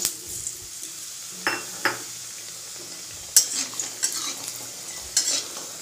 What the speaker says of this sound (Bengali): এবার আমি প্রথমে বড়িগুলো ভেজে নেব।